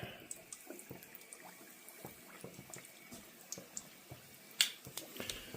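Stuffed sopapilla dough fries in hot oil, giving quiet, scattered crackles and pops that come in irregular bursts, faint and close, with one sharper spit near the end.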